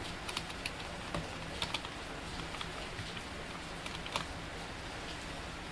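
Fingers type on a computer keyboard while HTML code is written, producing steady, close, light key clicks with occasional sharper taps and no voices.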